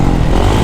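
2023 Kawasaki KX450SR dirt bike engine revving hard: a brief, loud, close burst of throaty engine roar with rough mechanical texture, alone without talk.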